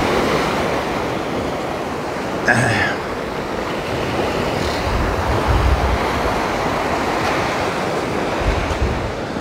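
Waves washing ashore on a beach on the Isle of Tavira, a continuous surf roar with wind buffeting the microphone and a brief voice-like sound partway through.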